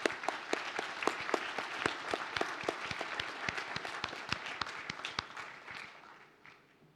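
Audience applause for graduates at a University of Birmingham degree ceremony, a modest crowd of sparse, distinct handclaps in an irregular patter that slowly thins and fades away.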